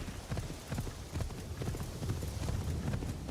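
Horse hooves clip-clop in a steady galloping rhythm in the video game Assassin's Creed Shadows, continuous and fairly close over a busy game soundscape.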